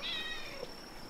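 A single cat meows briefly, a short bright call at the start, close and alone over a faint background, used as a sound effect during a tabletop role-playing game session.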